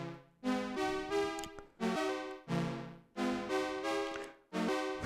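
Instruo Saich synthesizer voices stacked at intervals of unisons, octaves, fourths and fifths play a series of rich, harmonic chords, each entering with a fresh attack and shifting pitch in a steady rhythm.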